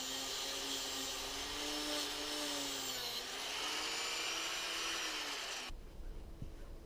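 An angle grinder whines steadily as it carves grooves into wood for a morel mushroom sculpture, a continuous loud rasping drone that cuts off abruptly near the end.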